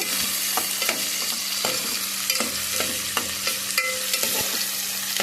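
Onion, tomato, green chili, ginger and curry leaves fry loudly in a pan for a fish curry. A dense sizzle carries regular scraping stirs and knocks, close up with no voices.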